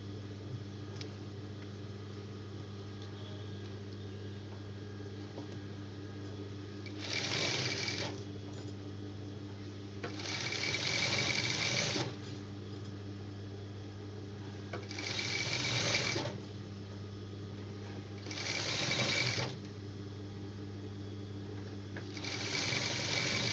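A sewing machine stitches a folded fabric hem on a petticoat (body pavadai) in four separate bursts of a few seconds each, set against a steady low electrical hum, with no talking.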